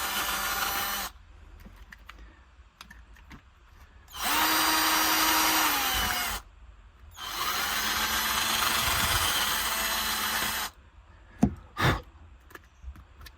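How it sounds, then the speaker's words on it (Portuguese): A power drill bores out a hole in a Jetta MK5 door handle, running in two bursts of steady whirring of about two and three seconds each, separated by pauses, then a few sharp clicks and knocks. "Então tem que alargar com essa broca aqui que eu tenho"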